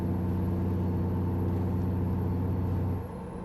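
Engine brake on a truck in American Truck Simulator, a steady low droning rumble with layered harmonics holding constant for about three seconds before easing off slightly at the end, fairly quiet.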